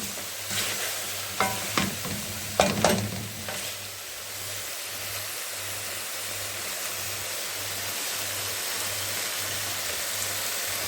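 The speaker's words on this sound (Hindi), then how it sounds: "ये देखिए टमाटर डालकर हमने चिकन को अच्छी तरह से भून लिया है" Chicken frying with tomatoes and garam masala in a pan for a dhaba-style cabbage and meat curry; several sharp stirring scrapes early on, then a steady close sizzle with a low hum underneath, no speech.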